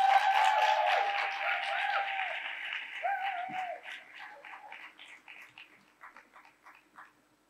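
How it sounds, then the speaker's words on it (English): Audience applause with cheering at a conference plenary event for an evening of storytelling, loud at first and then thinning into scattered, fading claps. "Let's have another warm round of applause for Anita Zaidi"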